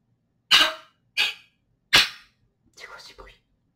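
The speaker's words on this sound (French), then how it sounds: "C'est le chien qui tousse." A dog coughs in three sharp, hacking bursts spaced about half a second apart, followed by a softer, rougher fourth cough, close and alone in an otherwise quiet room.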